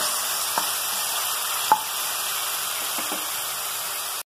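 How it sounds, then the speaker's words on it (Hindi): Tomatoes fry in a pan over medium heat, filling the air with a constant close hiss and sizzle, with a few faint clicks of stirring against the cookware. "तो अब इसमें मैं टमाटर डाल देती हूँ। मीडियम आँच में भूजेंगे इसको।"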